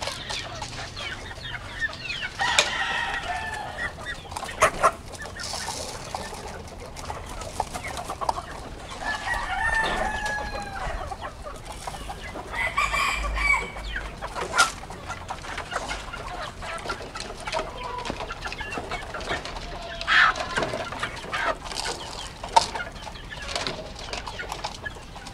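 Pet chickens cluck busily around a rooster, with several crows rising over the steady flock chatter throughout, close and fairly loud.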